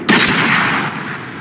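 A tank gun fires in World of Tanks, one heavy blast followed by a long, loud, rumbling decay that fades out after about a second.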